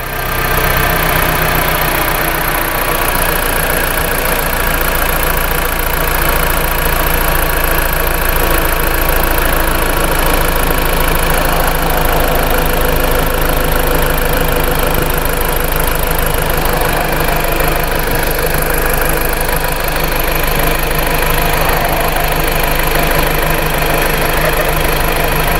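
2010 Jeep Patriot engine idling steadily up close, a constant mechanical hum and vibration with no pauses.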